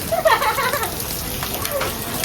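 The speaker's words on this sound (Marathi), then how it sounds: "ह्या चाळीसला पाऊस आला, किती मस्त वाटतंय बघा खरं." Rain falls steadily in a village, a soft, even wash of drops with a few brighter splashes near the start, continuing without pause.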